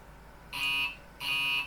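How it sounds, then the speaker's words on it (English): A guard buzzer in a Class 802 train cab on the South Devon Main Line in Train Sim World 6 sounds two short, clean electronic buzzes separated by a brief gap, each about a third of a second long. "There's the guard buzzer, which just sounds silly"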